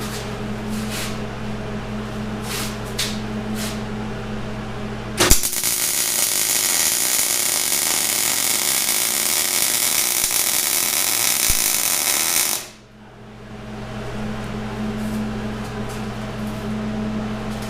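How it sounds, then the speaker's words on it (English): A Dana 60 steering arm is welded onto an axle knuckle, a steady, loud crackling hiss that starts with a sharp strike, runs about seven seconds, then cuts off, with a fan humming before and after. "it's always better to go downhill when you weld, so I'm going to start up here and I'm going to just fill this whole thing with just a broad circle pattern"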